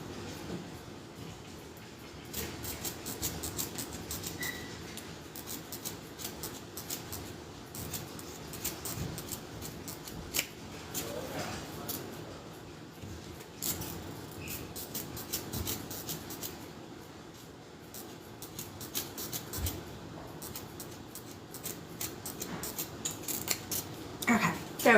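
Scissors snipping through fabric while cutting out a handbag, with a steady run of close, soft crunching cuts and light handling noises over about twenty-five seconds.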